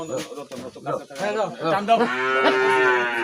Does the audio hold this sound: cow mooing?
yes